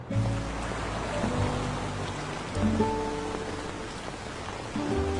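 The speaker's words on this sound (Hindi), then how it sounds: "मुझे पता है बारिश हो रही है" Steady rain falls and patters on surfaces, a dense continuous hiss with a low rumbling hum underneath and no voices.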